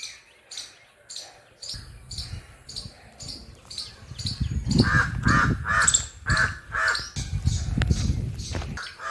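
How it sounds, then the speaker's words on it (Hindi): Crows caw repeatedly in harsh bursts, some near and some farther off, over intermittent rustling and thumping, with a few other birds chirping faintly in the background. "कौवे के साथ युद्ध हो रहा है, देखिए।"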